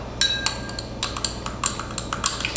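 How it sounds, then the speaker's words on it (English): A spoon stirs a thick coconut cream cocktail in a glass, giving a quick run of bright clinks and scrapes against the glass, close and clear, with no talking. "We're going to stir this up."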